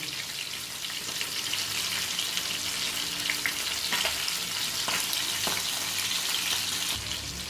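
Chicken drumsticks frying over medium-low heat in a pan, giving a steady, close crackling sizzle throughout with a few sharper pops and faint clinks, no talk.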